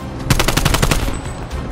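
An AK assault rifle fires a fast burst of about eight close, loud shots inside the Minecraft video game, then cuts off into brief quiet.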